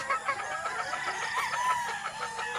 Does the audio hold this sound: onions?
no